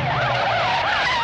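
A car brakes hard and skids, its tyres wavering in a loud squeal with a low engine rumble underneath, close and with no talk over it.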